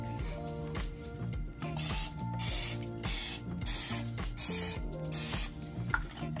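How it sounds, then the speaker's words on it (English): Cooking spray hisses onto a pan in a home kitchen, loud bursts of spray mixed with clicking and rattling from the can, up close with background music underneath. "I'm going to get my cooking pan. And I'm going to spray this baby down"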